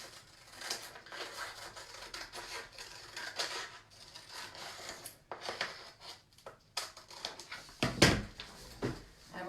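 Paper pages of a printed sewing pattern being cut with scissors, giving quiet repeated snips, rustles and rubbing of paper across a table, with a louder crinkle near the end and no talking.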